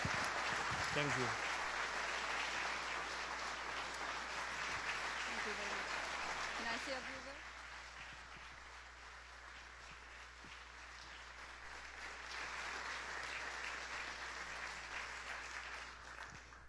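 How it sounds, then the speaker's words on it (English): Audience applause at a conference closing plenary, a broad steady clapping wash that eases after about seven seconds and swells again, with a few voice fragments over it early on. "Thank you very much for the nice applause"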